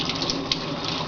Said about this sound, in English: I'm going to fill that side with water